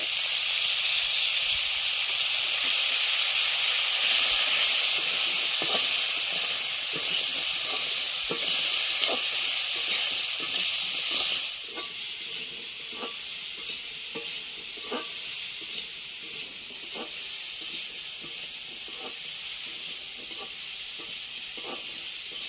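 Fish curry cooking in a pan in a Bangladeshi village kitchen, a loud continuous steamy hiss and sizzle that drops in level midway, with scattered light crackles and stirring ticks, no talk.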